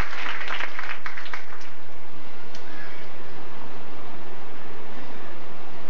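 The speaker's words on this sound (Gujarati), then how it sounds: "આપણે બધા તાળી વજાડીને પણ ચતુરભાઈને વધાવીએ." Audience applause welcoming Chaturbhai at a 1997 Rajkot Gurukul satsang gathering, a burst of many hands clapping over the first second or two that quickly fades into a steady background hiss.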